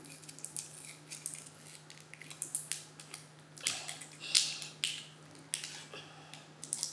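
Scissors snip through paper in a series of quick, irregular crisp cuts, close by and fairly quiet, with a low steady hum underneath.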